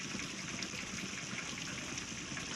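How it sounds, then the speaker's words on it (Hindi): A battery-powered 12 volt DC water pump runs with water gushing steadily from it, a dense, even hiss of flowing water with no pauses. "बैटरी से जो हम पानी की मोटर चला रहे हैं"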